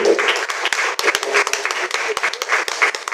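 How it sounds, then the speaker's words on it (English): Audience clapping at a college career day, a lively spell of many hands clapping with uneven loudness and a few sharp individual claps standing out. "Can you clap for him?"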